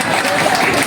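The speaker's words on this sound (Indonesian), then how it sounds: "Tepuk tangan." Crowd applause for the village head at a religious community gathering, a short burst of steady, fairly loud clapping that fills the moment without a clear start or end.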